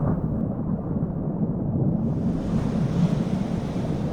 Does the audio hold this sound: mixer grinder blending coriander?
no